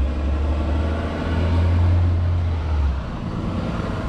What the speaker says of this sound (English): there's a truck driving by